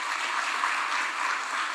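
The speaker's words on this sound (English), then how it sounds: "Let us give Justus Wabuyabo a round of applause." Steady, dense applause from a conference audience at a nuclear energy event in Nairobi, a continuous wash of clapping that holds evenly throughout with no voices over it.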